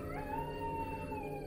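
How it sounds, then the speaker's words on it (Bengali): Dogs howl in an audio drama: a short, sustained mournful wail with a wavering pitch that rises and falls, heard at moderate level with no talk. "কুকুরের কান্না ভেসে আসছে।"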